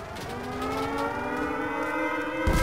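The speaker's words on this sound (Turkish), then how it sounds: "Sirenler ötüyor." Air raid siren wailing in the WWII shooter game Enlisted, a steady rising-and-holding tone with layered harmonics sounding loud and continuous over battle noise, with a thump near the end.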